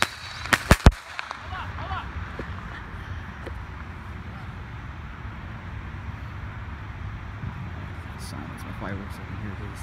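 A canister shell firework at a small pre-July 4th celebration goes off in a few quick, sharp cracks at the start, followed by a long stretch of steady, noisy outdoor background.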